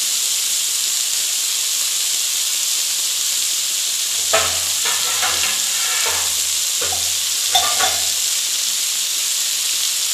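Dhekia fern greens fry in a pan with a constant bright hiss, while a utensil stirs and scrapes through them in a few short bursts near the middle; no one speaks.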